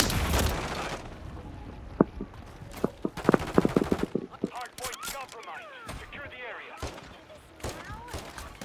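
Call of Duty video game gunfire crackles in sharp single shots and rapid bursts, loud and near, mixed with explosions and voices talking over the action.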